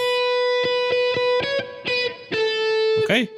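Electric guitar with distortion playing a short riff, separate sustained notes with brief gaps and a final bent, wavering note, close and clear with no talk.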